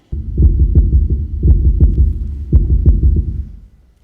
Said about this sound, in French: Ceux-ci sont les battements de cœur de toute une famille afghane.